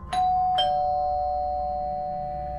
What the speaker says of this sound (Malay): Loceng pintu depan pangsa puri Jamil bergema